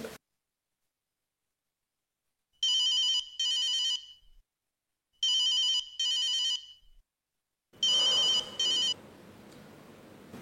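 An electronic telephone rings in a quiet room in a Bangladeshi TV drama scene, giving three clear double-burst rings separated by silence, loud and close, with a burst of background noise at the end.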